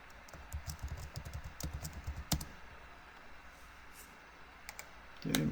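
A computer keyboard clicks under quick fingers as a password is typed, giving a fast close run of light taps for about two seconds, then a few scattered clicks in a quiet room.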